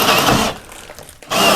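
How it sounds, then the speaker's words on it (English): A power drill bores through a wooden roof truss while wiring is run for a hot tub, with loud whirring bursts at the start and end and a quieter lull between them. "turn the drill around, catch the ones going that way"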